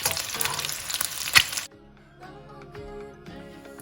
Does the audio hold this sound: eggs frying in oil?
yes